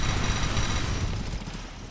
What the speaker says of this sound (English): And that's the sound of 20 headshots in a row